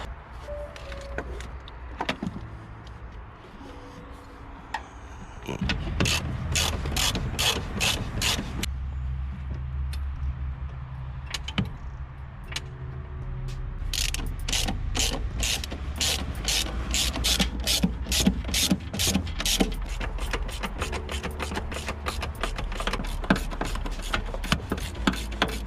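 Ratchet tightening a polyurethane gearbox mount on a Seat Ibiza 1.9 TDI, heard as long runs of fast, close metallic clicking in repeated bursts, denser and louder in the second half, with no talking.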